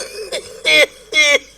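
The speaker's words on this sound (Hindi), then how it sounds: "ये खांसी वगैरह सब खत्म हो जाएगा" Three harsh coughs from a man, close and loud, the first shorter and the last two fuller and evenly spaced, with no talking between them.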